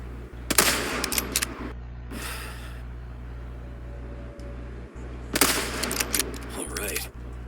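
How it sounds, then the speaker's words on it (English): Video game gunfire erupts in two loud bursts of rapid automatic fire separated by quieter stretches, with a few isolated single shots scattered throughout. "I'll shoot these guys."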